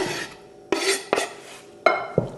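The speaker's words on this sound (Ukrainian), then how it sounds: "Нарізаємо шампіньйони, ну вони невеликі, бачите, я просто їх ріжу на половинку." A knife cuts small button mushrooms in half on a board for a crab-style salad, giving four distinct crisp slicing strokes at uneven intervals, close and moderately loud, with quiet pauses between them.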